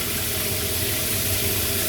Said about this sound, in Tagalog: ang bago naming shower head parang umuulan